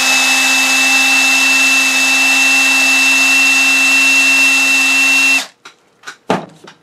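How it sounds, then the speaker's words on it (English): A cordless drill whines steadily at high speed for several seconds, driving a vibrating-shuttle sewing machine's bobbin winder, then stops, followed by a few sharp clicks and taps. "take your drill, and you like to use my little cordless one, and run it"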